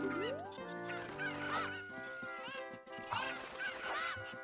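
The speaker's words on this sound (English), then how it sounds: "it's time for Talon's chickens" Cucco chickens in the Ocarina of Time video game, giving a series of close, squawking clucks and quacky calls in bursts over a steady tonal backdrop.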